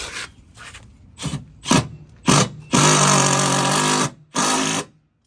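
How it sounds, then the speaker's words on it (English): Power drill driving stainless steel Phillips head screws to fasten a sliding wall track in a van garage: several short whirring bursts, then a longer sustained run and a final burst, close and loud. "we're just using some stainless steel Phillips head screws to put them in"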